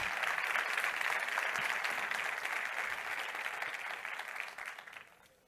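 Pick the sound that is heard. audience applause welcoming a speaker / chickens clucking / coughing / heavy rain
audience applause welcoming a speaker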